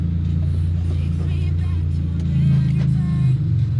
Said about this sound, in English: let's give her a couple of revs here